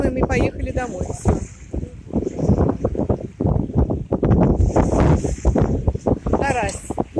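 Storm wind gusts across a riverbank during fishing, with swarming midges about, a rough, buffeting roar that rises and falls close to the microphone throughout, mixed with indistinct voices and handling noise.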